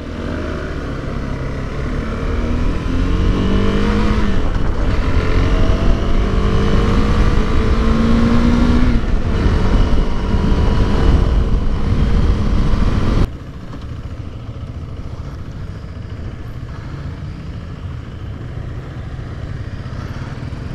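A 2021 KTM 390 Adventure motorcycle engine revs hard while riding, climbing in pitch through low gears over steady wind rush, then drops abruptly to a quieter drone near the end; no talking.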